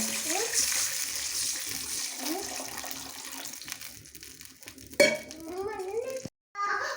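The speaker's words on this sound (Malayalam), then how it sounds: "അപ്പോൾ വെള്ളമൊക്കെ ഒഴിച്ചു കൊടുക്കട്ടെ" Water pours steadily into a pot with a rushing splash, while voices talk nearby; the pouring fades out partway through.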